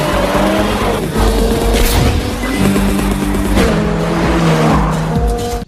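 Race cars at a Race Wars street-racing meet, loud engines roaring and tires squealing in long skids, dense and continuous, with a few sharp bursts over the top.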